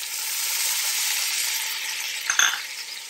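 Tomatoes go into a hot pot, setting off a loud hissing sizzle over steady frying, with a brief clink and stir near the end; close and without talking.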